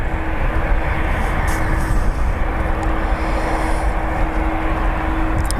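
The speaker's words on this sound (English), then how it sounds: "It's the Jambo jet firing up." An Airbus A340-500 VIP jet powers up its engines at Heathrow Airport, a loud, steady roar with a constant hum underneath, heard from a distance without talk.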